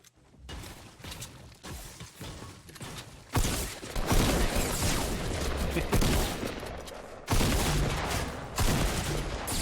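Heavy shotgun blasts and weapon mechanisms in a shooter video game, with loud bursts of fire and rattling action sounds in quick succession.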